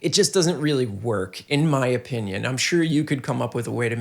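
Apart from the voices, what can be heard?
No everyday noises stand out.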